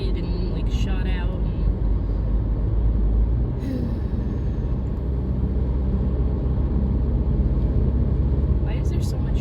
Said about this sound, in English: Why is there so much traffic this morning?